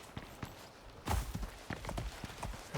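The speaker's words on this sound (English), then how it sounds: "There's another terror horse." A terror horse in the survival video game Icarus trots with quick, soft hoof clip-clops at a steady gallop rhythm, a stronger burst of steps coming in midway over faint background noise.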